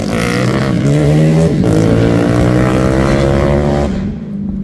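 A 70mm motorcycle engine of over 300cc is revved hard, holding a loud, buzzing rising drone for about four seconds before it drops off abruptly into a quieter idle, with no talk.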